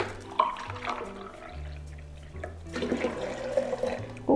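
Cranberry juice cocktail being poured into a cup for a punch, a steady liquid gurgle and splash that runs for several seconds with small shifts in flow and no talking.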